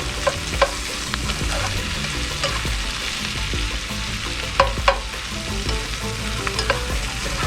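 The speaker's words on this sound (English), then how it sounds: "Now we'll just mix in the potatoes and the sausage. Just breaking up our sausage a little bit." Potatoes and sausage frying in a Dutch oven, with a steady loud sizzle and scraping spoon strokes from stirring, including a few sharper clacks of the utensil against the pot.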